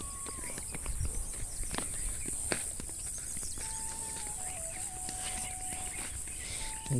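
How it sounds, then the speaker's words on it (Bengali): Crickets chirr in a continuous high, even drone outdoors near a hill, with footsteps crunching along a path and occasional thin bird whistles over the top; no talking. "ঝিঝি পোকার ডাক শোনা যাচ্ছে এখানে,"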